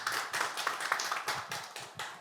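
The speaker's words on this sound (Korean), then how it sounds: "큰 박수로 환영해 주시기 바랍니다." An audience at a Korean physical therapists' association event claps to welcome a speaker, with distinct, fairly sparse hand claps in an uneven rhythm, close and moderately loud.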